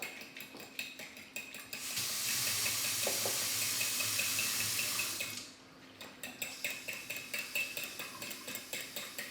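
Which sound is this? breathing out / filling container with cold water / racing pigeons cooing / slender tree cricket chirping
filling container with cold water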